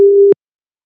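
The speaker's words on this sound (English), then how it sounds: "So I can play the sine waves." A pure sine wave tone played back in Praat sounds as one steady, loud, unwavering pitch for about a third of a second, then stops abruptly into silence.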